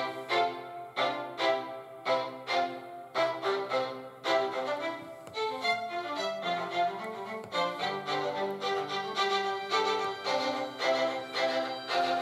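GarageBand Smart Strings autoplay runs a string section through rhythmic, repeated chord stabs that later give way to busier flowing patterns, full and steady throughout with no talking.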